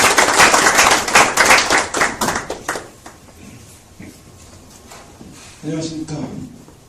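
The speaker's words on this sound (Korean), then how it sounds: "박수 부탁드릴게요" Audience applause at a startup founders' forum as a company representative is welcomed to speak, brisk clapping that fades out after a few seconds, followed by a short quieter stretch and a brief murmur of voices.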